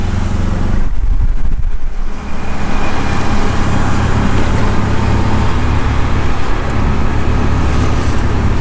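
A tuk-tuk rides through busy Phnom Penh traffic, a loud, steady wash of engine drone, road rumble and passing vehicles that runs unbroken throughout.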